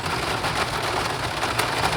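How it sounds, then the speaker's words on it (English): Heavy rain pours steadily during a road trip, a dense, loud, unbroken hiss of drops pelting nearby surfaces with no letup. "if it's going to be raining like this"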